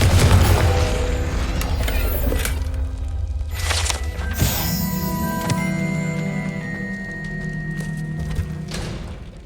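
Blasting spell explosions in the Hogwarts Legacy video game: a heavy booming blast opens, followed by further cracks and thuds with ringing magical tones and crackling debris that trail off.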